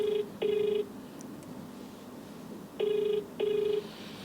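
Telephone ringback tone on an outgoing call, two sets of double rings with a steady pause between them, clear and alone.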